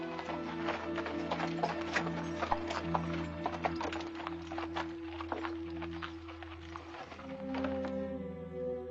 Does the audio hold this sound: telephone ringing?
no